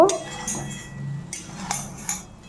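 A lid clatters and clinks onto a pan of fried okra and potatoes, followed by a few light metallic taps, close by.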